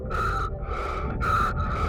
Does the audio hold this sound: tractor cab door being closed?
no